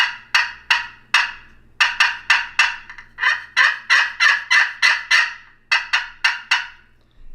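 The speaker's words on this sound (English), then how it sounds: "Cut, I just pull down quick." Sharp cut calls on a pot-style turkey call, close and loud: a series of quick, clucking yelps in irregular bursts of three to five notes with short pauses between groups.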